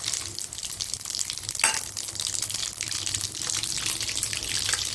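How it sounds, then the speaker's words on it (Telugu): Chicken pieces fry in a pan for a chicken pickle, giving a steady close sizzle and crackle of hot oil, with a brief louder splutter partway through. "ఇప్పుడు మన చికెన్ పీసెస్ ఇలా వేయించుకోవాలండి, దూరగా వేయించుకోవాలి"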